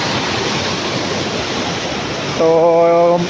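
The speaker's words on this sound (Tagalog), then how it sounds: "Baha na gid" Floodwater rushes through a swollen river in a loud, constant broadband roar, and a voice speaks briefly over it near the end.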